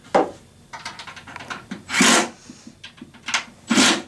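Screws being snugged into a wall kitchen cabinet during assembly, heard as close, rasping bursts of driver-on-screw friction in uneven spurts with two louder, longer grinds, no talking.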